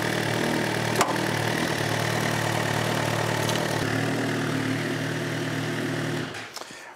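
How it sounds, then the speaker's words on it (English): A Suzuki GSX-R1000 motorcycle engine idles steadily and loudly with a constant low drone, then cuts off near the end during a coolant bleed. "So what we're going to do is crank it back up, loosen up this, open it up, make sure we've got a steady flow of coolant coming out."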